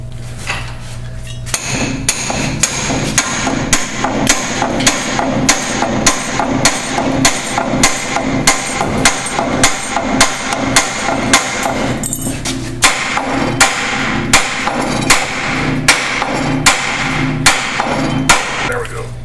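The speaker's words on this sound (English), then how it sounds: "Here we're driving the pickle fork in the lower ball joint" Repeated hammer blows drive a pickle fork into the lower ball joint of a Ford Crown Victoria to split it from the steering knuckle, a steady run of loud, close metallic strikes with a brief pause partway through.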